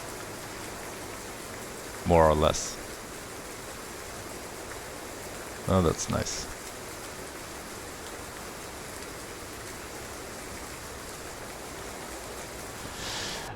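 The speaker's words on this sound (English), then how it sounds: "it's raining" Rain falling in a truck simulator game set in Finland, a soft, even hiss of rainfall running steadily throughout, briefly interrupted twice by a person talking over it.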